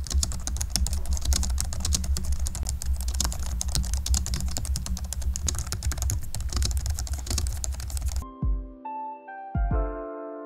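Rapid, steady keystrokes clatter up close on a low-profile Logitech MX Keys Mini keyboard for several seconds, then stop, leaving a few sustained musical tones.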